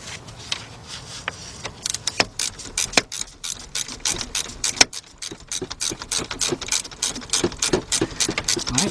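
A 5/8 speed wrench spins out a bolt on the oil filter housing of a BMW engine, producing rapid, close ratcheting clicks in uneven repeated strokes with sharp metallic ticks throughout.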